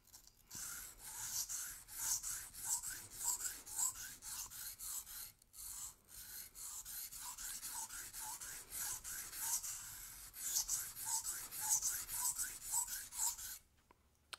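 Blade of a Leatherman Signal multitool being sharpened with steady back-and-forth rasping strokes, close and fairly quiet, in a regular rhythm with two short pauses and no talking.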